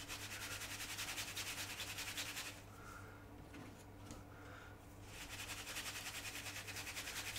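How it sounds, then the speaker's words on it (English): Cotton buds rub paint off the raised tread plate of a 1/48 scale U-boat model deck, a close, steady rhythmic scrubbing with a brief pause before resuming. "we're just rubbing it off the tops of the checker plate"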